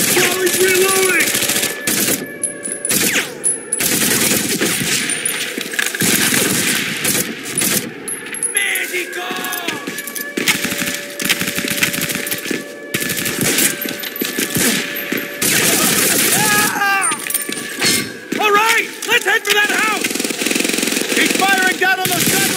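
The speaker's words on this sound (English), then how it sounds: "That MG-42's blocking our way!" An MG-42 machine gun in the PS2 shooter Medal of Honor: Vanguard fires loud sustained rapid bursts with brief pauses, mixed with other gunfire and battle noise, while voices shout over it.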